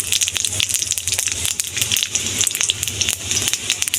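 Five-spice tempering sizzling in hot mustard oil in a wok, a dense steady crackle and spit with sharp pops scattered throughout, close and continuous with no talk.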